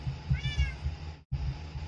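A house cat lets out a short, close meow with a rising-falling tone over a low background hum, alone with no talking.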